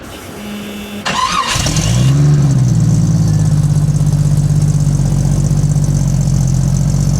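A car engine cranks briefly, catches and roars up before settling into a steady, loud idle that keeps running without letup.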